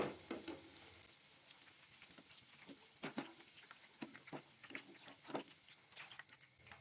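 Chicken gola kababs fry in a pan, a quiet, steady sizzle broken by scattered pops and crackles, with occasional scraping or stirring clicks and no voices.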